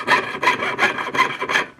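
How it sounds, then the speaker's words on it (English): A hand saw rasps through a metal pendant in steady back-and-forth strokes, about five rhythmic passes, close and fairly loud with no talking. "as you're sawing, try to keep your blade straight up and down"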